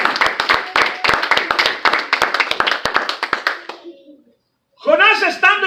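Church congregation clapping during a Spanish-language sermon: loud, rhythmic, evenly spaced claps that stop abruptly, followed by a brief silence and then a voice speaking up close.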